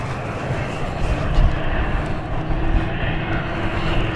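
An Embraer jet with CFM engines at London City Airport, a churning engine rumble with a faint whine, swelling slightly in the middle, moderately close and continuous, no talk.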